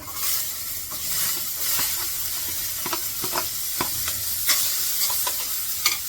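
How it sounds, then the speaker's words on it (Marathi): Onion sautés in a pan with a little salt, a continuous close hiss of frying punctuated by frequent scraping stirs of the spatula. "खोबरं काढून घेतलं आणि कांदा परतवते"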